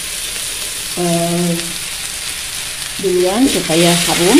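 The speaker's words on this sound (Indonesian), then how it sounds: "Ini bawang daunnya ditumis" Chopped spring onions sauté in a hot pan for a simple stir-fried tofu dish, giving a steady close sizzle and crackle while someone talks over it.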